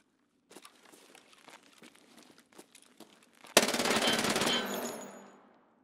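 Sustained automatic fire from an UZI PRO pistol in a first-person video game: a loud continuous burst of rapid shots lasting over two seconds, preceded by quieter scattered clicks and footstep-like taps.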